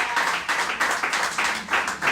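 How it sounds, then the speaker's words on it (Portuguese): A church congregation claps in rhythmic bursts during an Easter service, the steady applause filling the room at moderate volume with no voices over it. "Aplauda o Senhor."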